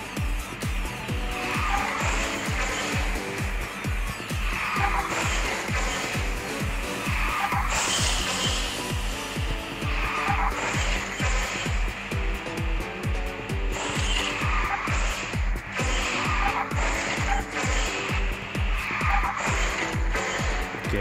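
A racing car in the video game QQ Speed drifts with long, loud tire squeals over a constant engine whine. Repeated skid bursts rise and fall every couple of seconds over a steady pulsing backing track.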